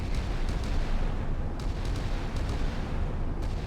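Warship turret guns fire in the naval combat game Sea Power, in a scaled WWI Battle of Jutland setup. A dense, rumbling barrage of booms blends into a continuous low roar, with a few sharper reports standing out over it.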